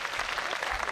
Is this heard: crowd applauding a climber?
yes